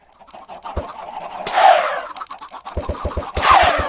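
Chickens in Minecraft give short bursts of clucking and squawking with sharp percussive hits between them, probably attack sounds, and two louder flurries rise near the end. The sounds are close and clear, with no talking.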